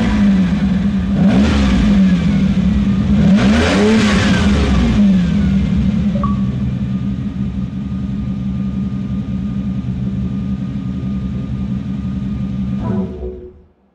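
A Ferrari 250 Testarossa engine in Forza Motorsport 4 revs hard twice in quick succession, then settles into a steady, loud idle that holds for several seconds before fading out abruptly.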